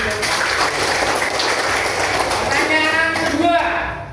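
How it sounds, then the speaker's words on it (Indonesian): Classroom applause from a group of elementary school pupils in a science lesson, a dense steady patter of many hands clapping at once, loud and close, tapering at the end. "Tepuk tangan."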